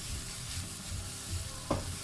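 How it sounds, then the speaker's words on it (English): An onion browning in a frying pan, heard as a quiet, close sizzle with low rumbling and one brief scrape of stirring near the end. "Brown the onion for about 1 to 2 minutes before we add in the garlic"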